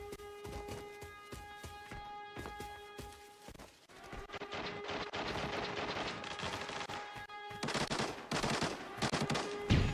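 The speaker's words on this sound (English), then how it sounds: "Shooting at some bots in the distance" Rapid bursts of rifle and machine-gun fire in the shooter game Arena Breakout, loud and close, rattling in quick strings with brief pauses and an intense stretch of overlapping shots toward the end.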